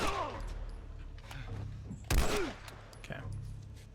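Gunfire in The Last of Us game, with a loud broadband shot burst near the middle over a low rumbling background and scattered quieter impacts, while a voice speaks faintly beneath.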